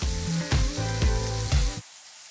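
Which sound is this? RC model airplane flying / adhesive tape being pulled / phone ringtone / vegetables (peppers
vegetables (peppers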